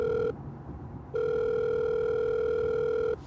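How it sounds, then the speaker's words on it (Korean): An outgoing call to a mother produces a telephone ringback tone, two steady electronic beeps separated by a short gap, loud and clean over faint background. "무서웠기 때문에 엄마에게 전화를 걸었어요."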